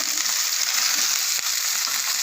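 Veld grape (nalleru) stalks frying in a pan, a steady, close, even sizzle throughout with faint stirring and no voices.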